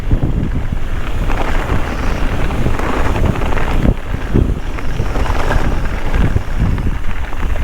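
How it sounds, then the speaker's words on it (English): Strong wind roars and buffets steadily across the microphone while mountain biking in the Himalayas of Nepal, loud and continuous throughout with gusty surges. "A little too windy."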